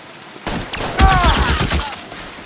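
A shotgun fires in the video game L.A. Noire: a loud, close blast with a ringing tail, followed by several rapid shots that run together.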